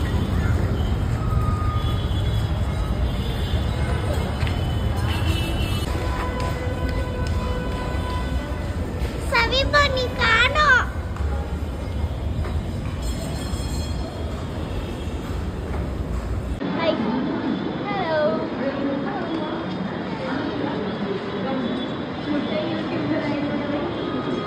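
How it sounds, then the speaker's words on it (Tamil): Riding a Bangalore metro train: a loud, continuous rumble of wheels and carriage with a stretch of high squealing midway, then a quieter steady run as the train settles, with people talking in the background. "So guys, இன்னைக்கு வந்துட்டு நாம மெட்ரோல போறோம்"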